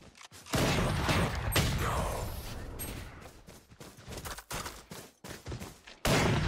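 Gunfire while running and shooting in the tactical shooter Valorant, a fast burst of loud shots followed by sporadic single cracks and short volleys, broken by brief silences.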